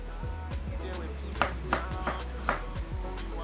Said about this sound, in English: I'm chopping my onion.